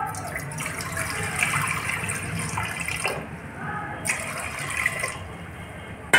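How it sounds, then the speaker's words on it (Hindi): Water poured into a pressure cooker of chopped vegetables (spinach, bathua, fenugreek, green onion, garlic) set on a gas stove for a Rajasthani handi sobeda, a steady close rush of liquid lasting several seconds with no talk. "अब इसमें पानी डालूंगी"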